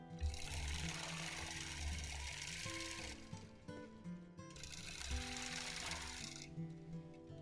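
Sewing machine quilting a crosshatch on a small mini quilt, a close, loud, fast needle chatter in two long runs separated by a short pause, with no talking.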